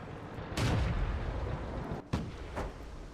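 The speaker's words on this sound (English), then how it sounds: "I think this is an artillery tank here. So obviously it fires really long distances." Artillery tank cannon firing in World of Tanks, with a loud heavy boom near the start followed by two sharper, fainter shots later over a constant rumbling battle bed.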